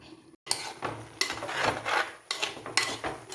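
Avial vegetables with drumstick pieces being stirred in a pot, with repeated scraping and clattering strokes of a spoon against the metal in short bursts, close and fairly loud.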